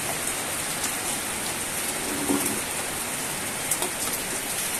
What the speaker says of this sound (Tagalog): Nag-uumpisa na naman umulan.